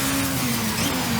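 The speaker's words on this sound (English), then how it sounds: "Gives me the chill listening to a car like this." A car engine in a racing video game hums and revs at a steady mid pitch, a brief, continuous droning tone heard alone.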